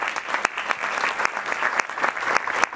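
An audience at a theatre awards ceremony applauds, a loud, close round of clapping with sharp individual claps standing out as it continues unbroken.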